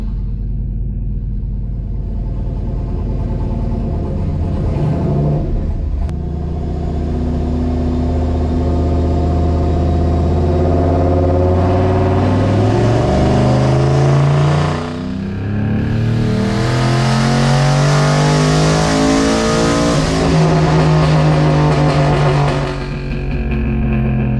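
A turbocharged Chevrolet Silverado with a 4.8 engine and 7875 turbo on a dyno pull at 6 psi, the loud engine climbing steadily through the revs with rising harmonic drone, easing off near the end.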